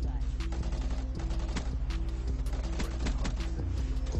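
Rapid automatic fire from an R70 Ajax rifle in Black Ops 3 crackles in repeated close bursts over a steady low game rumble, the sharp shots sounding loud and near.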